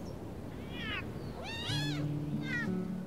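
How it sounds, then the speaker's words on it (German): A lynx cub meows in the nature-simulation video game Shelter 2, giving three short, rising cries in a row over a quiet game background that ends in low sustained tones. "Wer mauzt?"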